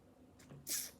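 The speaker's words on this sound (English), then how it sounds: "I gotta sneeze" A single sharp sneeze bursts out near the end, preceded by a brief intake of breath, close and fairly loud.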